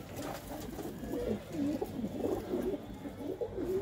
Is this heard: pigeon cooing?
yes